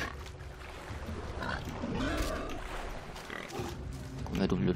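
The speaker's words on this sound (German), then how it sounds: "Ein Schwein." A pig in Far Cry Primal grunts and oinks in several short bursts amid game ambience, with someone talking over it.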